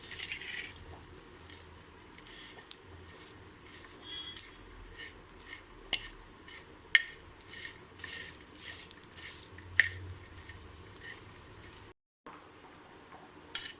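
Dried shrimp being dry-roasted in a hot clay pot, giving soft crackles, rattles and scrapes of a spoon against the pot, quiet and close, with no talk.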